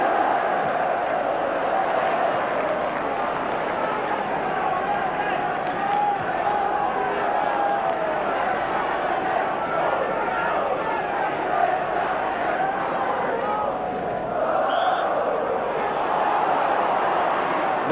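Large stadium crowd at a 1987/88 Manchester United v Liverpool football match, a dense, steady roar and murmur from the terraces that holds throughout with occasional swells.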